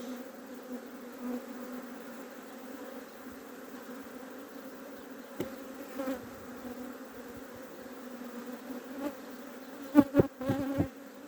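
Honey bees hum steadily around an open beehive, a continuous close drone through the whole stretch, with a few sharper rattles and taps toward the end.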